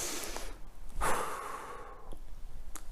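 Slow, deep breathing close up with no talk: a long soft exhale swells near the middle, followed by quieter breaths and a brief sniff-like intake near the end.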